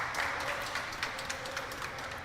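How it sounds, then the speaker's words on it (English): A crowd at a basketball game applauds with a moderate, continuous patter of clapping, a few sharper claps standing out from the spread-out background. "As you can hear the applause from the crowd starting to come in as Schiffman waiting to check back into the"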